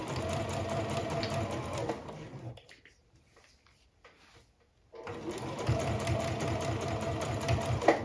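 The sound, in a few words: sewing machine stitching fabric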